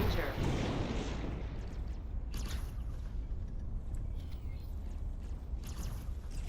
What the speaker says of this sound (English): I hear fire.